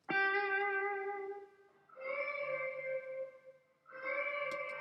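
Three sustained, buzzy instrument notes on a pre-fader reverb send with the fader turned down, each ringing out with a washy reverb tail that lingers between them.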